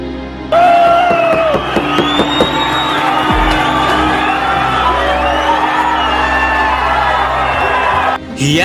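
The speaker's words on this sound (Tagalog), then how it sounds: "Hiyawan ng mga tao sa bansang Australia dahil sa husay ng Pinoy na nagbigay ng entertainment sa kanila." A crowd in Australia roars after a Filipino boxer's win, with loud whoops, shouts and cheering sustained under a backing track before dropping off abruptly near the end.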